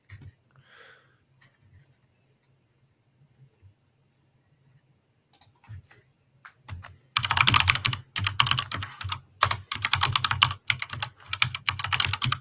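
Computer keyboard typing, close and crisp, in a quick irregular run of clacking keys that starts partway through after near silence and a few faint clicks.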